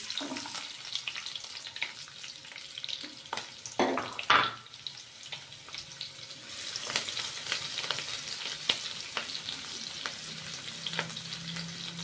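Onions go into hot oil with whole spices, dried red chillies and bay leaves, sizzling steadily in a pan with a sharp clatter and burst of frying early on, then a continuous crackle.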